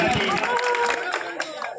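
An audience at a kabaddi match claps in a brief, scattered burst of applause close by, with crowd noise and a voice on a loudspeaker over it.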